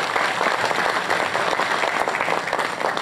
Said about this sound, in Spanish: el alcalde real de Caleta, Vinicio Castillo, para quien pido un aplauso